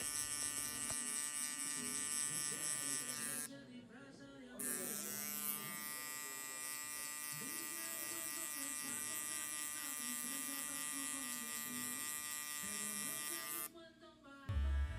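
Electric hair clippers buzz continuously while cutting a fade in a mullet haircut, a close, steady hum with brief dips in pitch and pauses as the blade moves through hair.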